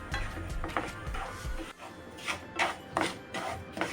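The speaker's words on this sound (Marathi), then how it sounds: "रवा आपल्याला व्यवस्थित भाजून घ्यायचा आहे" Semolina is roasted in ghee in a pan, giving soft, irregular scraping and stirring strokes of a spoon against the pan. The strokes are fairly close and repeat in uneven bursts, with no talking.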